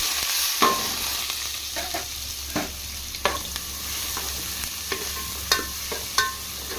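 Thinly sliced onions and slit green chillies fry in oil for a Nellore-style small fish curry, sizzling steadily while a spoon stirs with occasional clacks against the pan.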